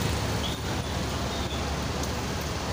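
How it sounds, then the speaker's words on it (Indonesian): Steady, dense roar of engines and road noise fills a crowded bus terminal at Kampung Rambutan during the holiday homecoming rush, with idling buses and passing vehicles blending into a continuous din and no talk. "Suasana ramai sekali di Terminal Kampung Rambutan."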